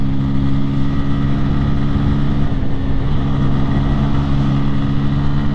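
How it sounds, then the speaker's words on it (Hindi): A Bajaj Pulsar N150 motorcycle engine revving hard against its 9000 rpm limiter, a loud, continuous, close droning roar with steady tones that holds for the whole stretch, no talking. "ये देखो भाई, तो 9000 गया है आरपीएम का लिमिटर"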